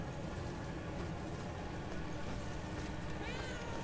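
A cat meows in the video game Murdered: Soul Suspect: a single short, rising meow near the end over a steady, dense wash of game ambience.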